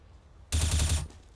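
A rifle burst in Counter-Strike on the Cache map, one sharp, loud, rapid string of shots lasting about half a second, then quiet.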